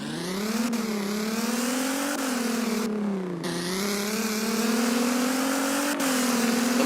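A Nissan V6 sports car engine revs hard in the Roblox Driving Empire game, a loud sustained whine that climbs in pitch and drops briefly at gear shifts, with no talking.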